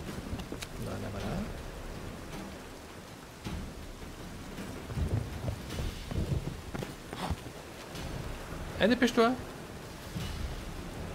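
Rain pattering over city streets in The Witcher 3, with a faint thunder rumble beneath and someone talking briefly over the steady downpour.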